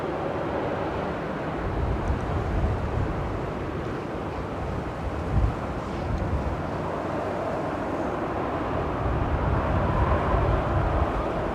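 An Airbus airliner at Manchester Airport gives off a steady, broad roar of jet engine noise that holds constant and fairly loud throughout, with slight swells and no talk.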